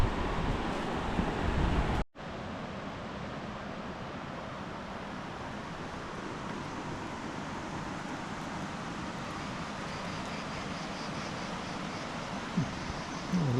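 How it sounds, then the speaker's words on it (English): A waterfall near a tour group's trail, a continuous close roar of rushing water with a brief dropout early on, steady and loud throughout with no talking. "here we have the waterfall."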